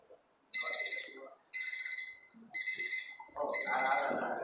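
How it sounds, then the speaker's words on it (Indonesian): An alarm rings in three short repeated bursts of bright, steady electronic tones with pauses between, followed by a dense, louder overlapping ring; a voice murmurs briefly under the tones. "Alarm."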